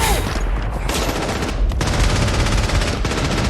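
Loud, continuous machine gun fire from the film Saving Private Ryan, dense rapid bursts overlapping with little pause.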